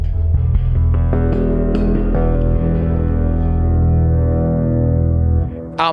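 A deep, booming metallic blaster beam string struck once with a mallet and left to resonate, its long echoing drone slowly fading before a sharp cutoff.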